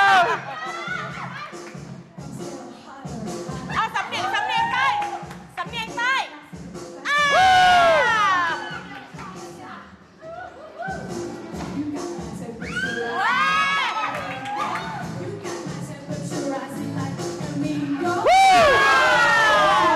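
A show audience screams and cheers loudly in repeated bursts, with high-pitched shrieks and whoops rising and falling over a host's talk at a dance and voice imitation performance.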